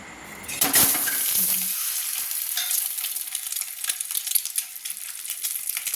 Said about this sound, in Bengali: এবার আমি কড়াইতে সরষের তেল আবার দিয়ে দিলাম ডিম ভাজার জন্য।